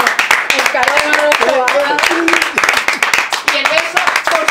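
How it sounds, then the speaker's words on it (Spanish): Audience applause on a Spanish television programme, Andalucía Directo, as a cart is presented to a guest; rapid close clapping runs throughout, mixed with voices and singing-like tones. "Oye, un aplauso."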